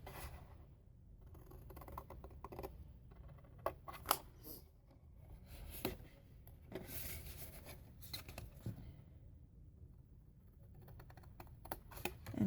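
Scissors cut a small triangle out of paper card, giving soft close snips and rustling scrapes at a low level, with quiet pauses between the cuts.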